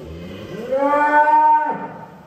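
A single long, loud moo from a giant 1.2-ton bull on a farm, rising in pitch and then cutting off sharply, close by.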